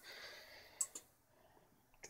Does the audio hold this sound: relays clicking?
yes